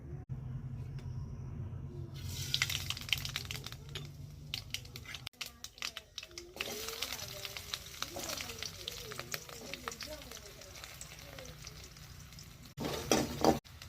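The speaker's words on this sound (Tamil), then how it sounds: "இப்போ வெண்டைக்காயை இது நல்லா வதக்கி சுருள வதங்கினது நல்லா எண்ணெயில் வதங்கிடுச்சு" Okra pieces sauté in hot oil in a pan, giving a soft, steady sizzle with intermittent scraping and stirring clatter, close by and fairly faint, with brief louder clatter near the end.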